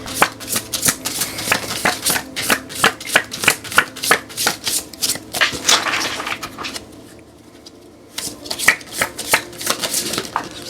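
Oracle cards are shuffled by hand for a tarot reading, in quick, rhythmic bursts of close, crisp riffling that pause briefly near the end before resuming.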